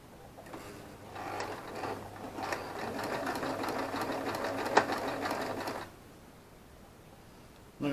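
A sewing machine whirs steadily up close for several seconds while stitching a simple peg bag. It ramps up, holds an even mechanical drone and stops with a click near the end.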